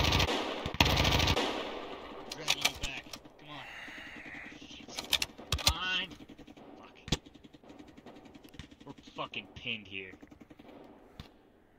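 Video game gunfire, with bursts of rapid automatic shots and scattered single cracks over several seconds, mixed with players talking and other game noise.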